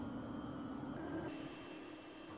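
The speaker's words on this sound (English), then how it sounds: "The engines don't sound quite as beefy as you'd expect given the size of this plane." Low, steady drone of Ilyushin Il-76 aircraft engines running in the X-Plane 11 flight simulator, a faint even hum with a slight whine, continuous throughout without any talking.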